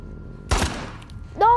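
Gunfire in The Last of Us Part II: one sharp, loud shot bursts out and decays, followed by a brief ringing tone near the end, with no talk over it.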